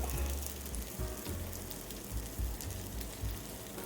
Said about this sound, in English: It's making a beautiful sizzle sound.